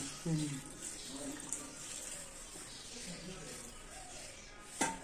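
Water pours into a mixer grinder jar while homemade ghee is being made in a home kitchen, a faint, steady trickling flow running under quiet talk.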